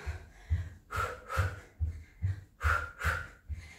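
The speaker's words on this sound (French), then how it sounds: "Donc soufflez bien, gardez les épaules bien éloignées des oreilles, le nombril bien aspiré et soufflez bien." Forceful breathing during a cardio workout, a run of sharp rhythmic nasal exhales and breaths at roughly half-second intervals, close and quiet with no speech.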